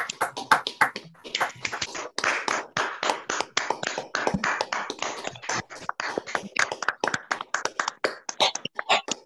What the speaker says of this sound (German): Ich würde Sie jetzt einladen, dass Sie alle einmal Ihr Mikro anmachen und einen kleinen Applaus ganz Corona-sicher